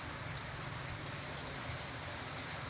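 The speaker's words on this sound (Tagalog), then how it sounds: "Medyo mahihina na po yung ulan pero ambon-ambon pa rin." Light drizzle on a muddy mini farm falls as a steady, even hiss of rain, continuous and fairly soft, with no voices.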